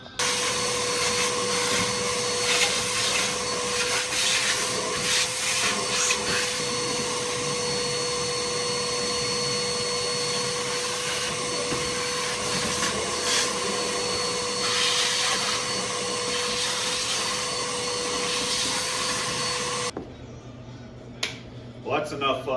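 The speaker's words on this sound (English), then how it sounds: "So we're gonna shop vac this, wipe it down, and give it some paint." A shop vac runs loud and steady with a constant whine while vacuuming the interior of a 1966 Plymouth Belvedere II, then shuts off near the end, leaving a few faint knocks.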